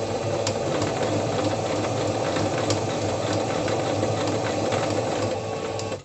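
A domestic sewing machine runs steadily through fabric for a hexagonal cloth organizer basket, a loud close continuous mechanical whir with rapid needle clatter that slows at the very end.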